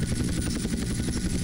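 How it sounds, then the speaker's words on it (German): Modded helicopter in Grand Theft Auto, a steady loud rotor drone with rapid rhythmic chopping pulses throughout, alone without talk. "Es ist einfach nur ein Helikopter, welches ein bisschen gemoddet wurde."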